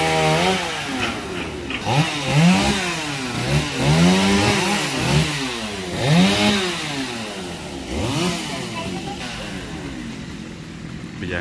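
A chainsaw cuts a branchy lồng mức tree in a cramped space, its engine loud and close, rising and falling in repeated revving surges as it bites into the wood and then eases off.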